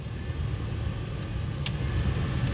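A car's new blower motor fan runs at medium speed after a resistor replacement, giving a steady, even whooshing hum with no change in pitch, close and continuous.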